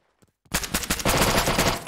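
Heavy automatic gunfire in the Arma 3 VR mod during close-quarters co-op combat aboard the USS Liberty, a loud sustained burst of rapid shots after a few faint taps, filling the rest of the moment.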